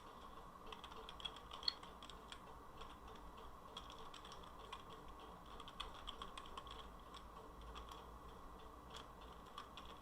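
Steady typing on a computer keyboard, many quick light key clicks in an even patter at moderate level, with no voices, while entering code for a COVID-19 SIR model simulation in Mathematica.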